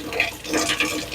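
Water gushes and splashes as it rinses through the valve body of a Bunn coffee brewer with a clogged water flow valve, a short, close, bubbly rush with small surges.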